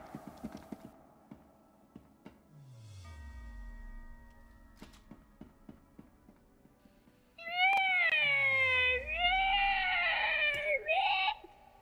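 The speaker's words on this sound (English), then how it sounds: "when you play the cat sound effect" Synthetic cat meows and yowls ring out in quick succession, loud and electronic, after descending tones and clicks from effects in the game Meme Modem.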